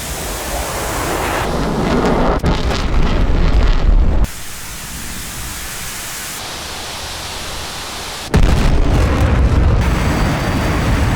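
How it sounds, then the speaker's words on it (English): A plane crashes and explodes in a flight simulator combat game with an AJ-37 Viggen, heard as loud broadband roaring noise with abrupt cuts and a sudden renewed blast near the end. "You can see some plane just crashed."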